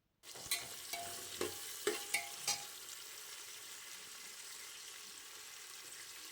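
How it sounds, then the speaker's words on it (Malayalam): Onions fry in hot oil in a pan for chicken biryani: a continuous bright sizzle, with several clattering stirs of a utensil in the first few seconds, then steady sizzling alone. "ഇതൊക്കെ പൊട്ടിച്ച് കഴിഞ്ഞാൽ സവാള ഇടുക"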